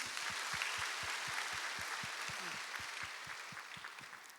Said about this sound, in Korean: 마음을 담아 박수로 환영하도록 하겠습니다.